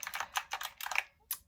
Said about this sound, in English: when I write on this keyboard